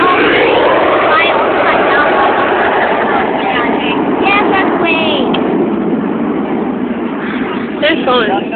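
Airplanes at the 2011 Milwaukee air show fill the air with a loud, steady jet roar, while nearby voices talk over the continuous noise.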